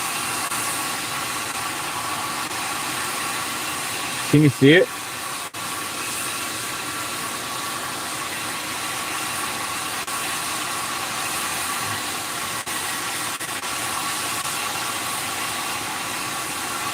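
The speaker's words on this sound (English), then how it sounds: "He's venting this truck right here. He's got that gas in there, I guess." A truck vents gas nearby, a broad steady hiss blended with an idling engine drone heard from inside a car, with a brief spoken question partway through.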